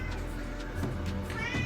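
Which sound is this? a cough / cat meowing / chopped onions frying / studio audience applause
cat meowing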